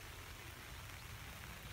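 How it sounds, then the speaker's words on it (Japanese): Steady rain falls on a golf course at the short hole on a links layout, a dense even hiss of drops on grass and surfaces filling the whole stretch with no voices. "まあ雨も降ってんでね、グリップを"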